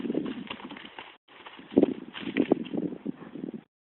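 Hooves of a ridden horse slowing from a canter to a stop, a series of dull thuds and clops that grow irregular and then fade out near the end.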